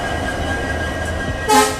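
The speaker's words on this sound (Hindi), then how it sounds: "दोस्तों हमारी ट्रेन पहुंच चुकी है कुलेम पे और यहाँ पे बैंकर लोकोमोटिव से लगाए जाएंगे।" A train with locomotives idles at Kulem station near Dudhsagar falls, its steady low diesel rumble loud and close, broken near the end by a short, bright horn blast.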